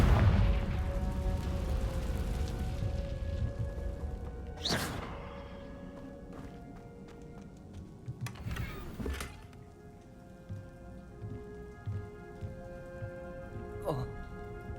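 Confringo fire-spell blasts in the Hogwarts Legacy video game: three sharp explosive bursts spaced a few seconds apart, the last faintest, over a steady bed of game ambience and music.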